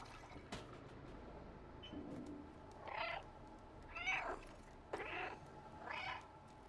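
Several drawn-out, distressed cat meows in the video game Stray, spaced about a second apart over a low background hum, with no talking.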